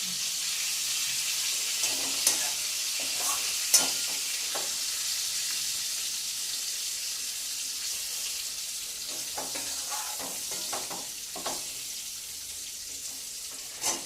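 Food frying in a pan sizzles with a steady bright hiss, broken by occasional scrapes and clinks as it is stirred and turned, close by and with no voices.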